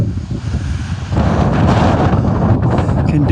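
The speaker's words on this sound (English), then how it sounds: "look at how windy it is up here" Strong gusty wind buffeting the microphone on the Table Mountain summit trail in Cape Town, a loud continuous rumbling roar that swells and stays heavy throughout.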